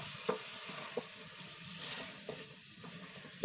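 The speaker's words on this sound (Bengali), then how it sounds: "এখন আমি এটা ভালোভাবে মশলার সাথে কষিয়ে নিব" Cut potatoes sauté with spices in a pan, a quiet continuous sizzle broken by a few sharp clacks of a spatula against the pan.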